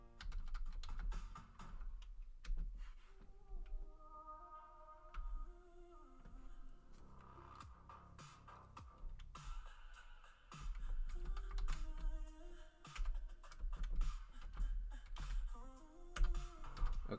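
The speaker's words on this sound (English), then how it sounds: "it doesn't really give me a way to type unless I use my keyboard" Keys on a computer keyboard are typed in irregular bursts of close, crisp clicks, heard over game music with sustained tones running underneath.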